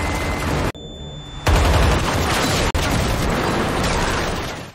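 Dense, loud gunfire fills an action film scene as gang members advance shooting nonstop, a continuous roar of shots and blasts broken by a brief quieter gap and a sharp cut.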